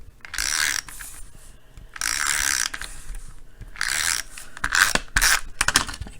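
A Tombow adhesive tape runner lays glue onto a paper card in several short ratcheting, rasping strokes separated by brief pauses, close and clear with no talking.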